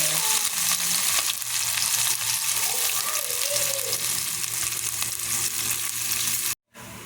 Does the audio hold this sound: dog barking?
no